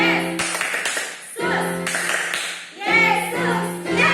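Children clap along in a rhythmic Sunday school clapping song, bursts of hand claps and taps alternating with sung or chanted voices in short phrases.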